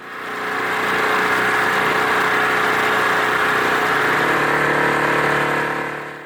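A steady inflatable-boat outboard motor drones loudly and continuously on the water around Lismore, running at an even pitch throughout with no voices.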